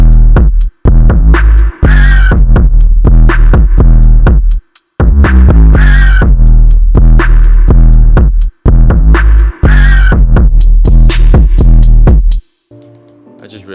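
Full drum pattern of a hip-hop beat playing loud and close, punchy kicks and crisp hi-hats repeating steadily over booming bass, with a brief break midway and a quieter tail at the end.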